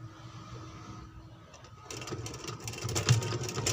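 A sewing machine stitches a frill onto a baby frock, starting as a low mechanical hum and then breaking into a fast, steady rattling run of needle strokes that grows louder toward the end, close by and without talk.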